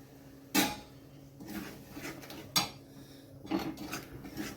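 A thick paste of cashew, poppy seeds, melon seeds and sesame is stirred into spiced oil in a pan for a white prawn gravy. Three or four short, close scraping strokes stand out against quiet, with no talk.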